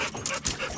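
A dog yips and barks in short bursts by the water during early-season bass fishing in Wyoming. The sound is close and sits over a noisy outdoor background.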